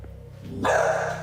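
A single dog barks once, close and loud, after a short lead-in of low whining, with no talking over it.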